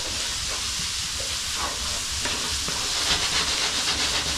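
Onions sweating in a pan for an aji de gallina, giving a steady soft sizzle and hiss throughout, with faint stirring scrapes and no talking.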